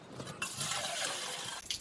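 A bucket fills with water from a tap for an outdoor bush shower on safari: a steady, close gushing rush that lasts just over a second, then trickles off, with no talking.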